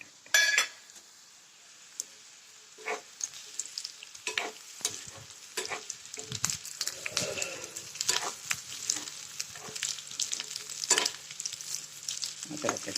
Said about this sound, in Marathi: सगळं भाजायला आहे चांगलं छान भाजायला